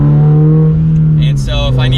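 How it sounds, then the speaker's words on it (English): A manual transmission car downshifting with rev matching, the engine's steady drone rising into a brief revving blip, heard from inside the cabin and loud, with someone talking over it. "I can rev match to 5th, rev match to 4th now, still maintaining my speed."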